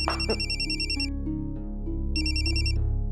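A phone rings in two loud electronic trilling bursts separated by a short pause, with a low background tone underneath.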